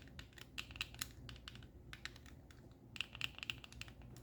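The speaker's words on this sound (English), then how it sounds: "on the shoulder buttons, you have clicky switches." An 8Bitdo FC30 Pro controller's shoulder buttons give small, quiet clicks in short clusters, close up but faint against a near-silent background.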